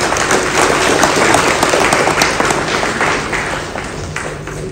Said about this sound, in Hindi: आप सब लोगों से आग्रह करूंगा कि जोरदार ताली बजा के उनका स्वागत